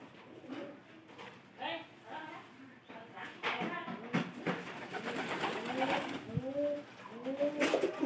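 Pigeons coo repeatedly in a loft, with close, rounded rising-and-falling calls coming in a steady series while someone talks over them.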